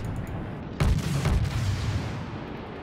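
Two deep, heavy booms of naval gunfire from the World of Warships cruiser Krasny Krym go off in quick succession, echoing into a rumbling tail.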